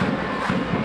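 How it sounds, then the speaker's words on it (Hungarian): Spectators at a handball match between Hajdúnánás KSE and Rádió M Miskolc make a steady roar of crowd noise, a brief, dense wash of voices with a few thuds mixed in. "Na, megjön a közönség hangja talán."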